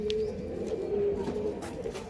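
A pigeon coos nearby in a low, steady throaty tone that continues throughout.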